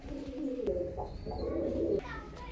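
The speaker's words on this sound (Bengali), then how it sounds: "তো ভিউয়ার্স কবুতর দুইটা আমার উড়ানো আছে" Teddy pigeons of an Oman bloodline coo in a low, steady series of soft throaty calls, close by, with a brief pause near the middle before the cooing resumes.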